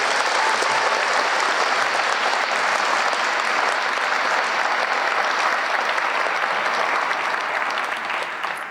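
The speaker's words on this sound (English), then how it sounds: "we'll give you one more round of applause." A full audience at a Class Day ceremony claps steadily and loudly for scholars lined up on stage. The dense applause holds at an even level throughout and only begins to ease at the very end.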